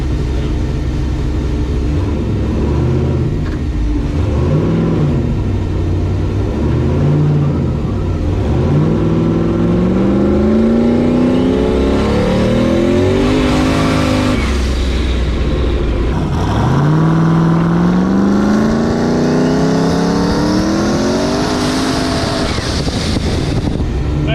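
Turbocharged LS-swapped Foxbody car under hard acceleration with short shifts: loud engine roar rising in pitch through gears, brief drops between shifts, with heavy wind buffeting on the microphone throughout.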